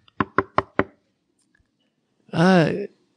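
Knocking on a house door as a sound effect: four quick, evenly spaced knocks, followed after a pause by a brief voiced sound.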